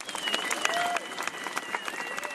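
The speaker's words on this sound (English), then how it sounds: "Let me clap it up for Houston." A brief burst of lively audience clapping and cheering from a crowd at a live call-in show. It is dense and steady for a couple of seconds, with scattered individual claps standing out.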